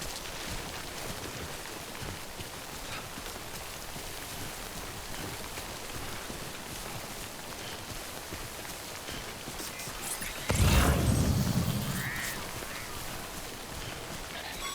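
Steady hiss of timefall rain pouring down in the video game Death Stranding, a continuous wash of falling drops that keeps up throughout, with a louder burst of noise near the end.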